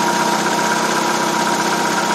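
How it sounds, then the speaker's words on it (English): A 2000 Ford Focus with a 2.0 SOHC engine runs at a steady idle after an alternator replacement, giving a close, even drone with no breaks. "The alternator's in, running."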